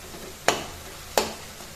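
A spoon scrapes and stirs tomato masala frying in oil in a pan for Darbhanga-style biriya sabzi, two sharp close stirring strokes over a soft steady sizzle.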